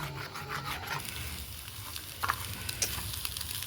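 Beaten eggs scramble and fry in a pan for egg tadka, with a soft, quiet sizzle, light spatula scraping and a couple of small clicks.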